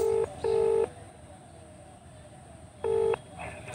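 A telephone ringback tone sounds in repeated short electronic beeps, two pulses, a long pause, then two more, quiet and steady.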